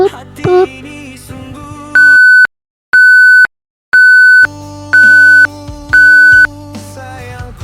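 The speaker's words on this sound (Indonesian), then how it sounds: "Dan setelah itu pun mereka memutuskan telepon mereka. Tut tut tut tut." Telephone hang-up tone: a run of loud, steady electronic beeps, about five evenly spaced pulses with short gaps, following a brief burst of musical tones at the start.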